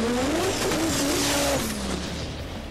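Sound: RB30-powered Nissan Gemini drifting with tire squeal

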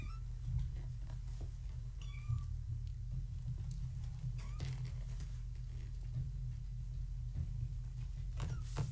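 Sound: cat meowing

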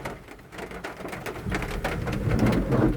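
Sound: rain falling

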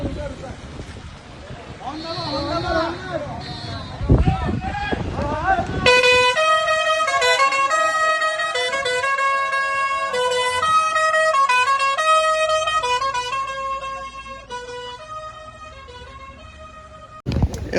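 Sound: vehicle horn honking

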